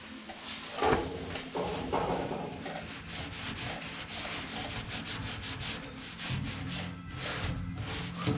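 Solvent-soaked rag wiping dissolved Sikaflex seam sealer off the body of a Ford Falcon XB GS, a steady close scrubbing and rubbing with repeated strokes, continuous and fairly loud with no talking.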